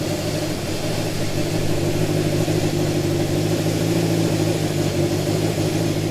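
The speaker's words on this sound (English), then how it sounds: "Idling better, and it's not popping as much." An old Honda CB750 motorcycle engine idling steadily after carburetor and air screw adjustment, running lean, with a dense, even low rumble that holds constant and close with no speech.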